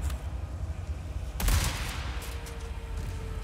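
Gunfire in the Resident Evil 4 Remake video game: a single sharp shot cracks out mid-clip over a low rumbling game ambience, with a faint echo trailing after.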